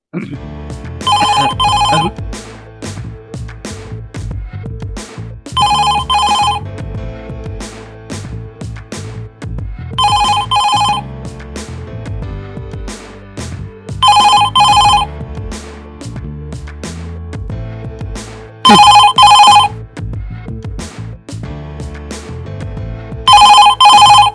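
An old-style telephone bell rings in six short bursts, spaced several seconds apart, loud and close over a busy background.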